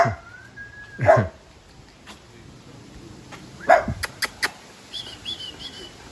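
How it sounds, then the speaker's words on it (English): Two dogs playing outdoors, several loud sharp barks and yips spaced out over a few seconds, close by, with birds chirping faintly in the background. "Oh, my dog's playing with that dog."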